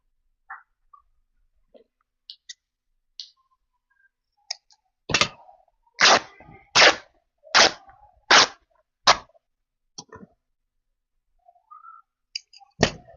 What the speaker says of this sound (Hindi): अब हम चौथा कपड़ा काट रहे हैं।